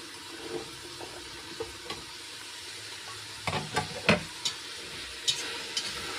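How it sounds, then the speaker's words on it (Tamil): Cut vegetables with salt being sautéed for veg pulao, a soft continuous sizzle with a few stirring scrapes and taps against the pot, close and moderately quiet. "இதோட கொஞ்சம் உப்பும் ஆட் பண்ணிக்கலாம். நல்லா வதக்கிக்கலாம்."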